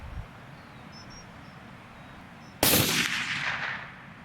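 A suppressed rifle fired while hunting in Southland, New Zealand, a single sharp crack after a quiet outdoor stretch with faint birdsong, its report rolling away and fading over a second or more.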